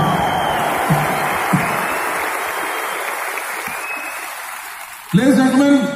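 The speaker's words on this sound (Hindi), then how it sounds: "मैं कहता हूं जोरदार ताली होनी चाहिए इन आने वाले प्रोडक्ट्स के लिए।" Sustained audience applause at an awards function, a dense wash of clapping that fades slightly over several seconds before a louder burst of clapping and cheering returns near the end.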